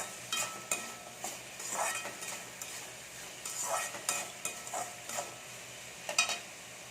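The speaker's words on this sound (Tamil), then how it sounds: "இது கொஞ்சம் நல்லா வதங்கணும் அந்த வெங்காய தக்காளி தான்" Brinjal, onion and tomato stirred in a pan over heat, a soft sizzle under repeated scrapes and clinks of a spoon against the metal, close and moderately quiet, with no talk.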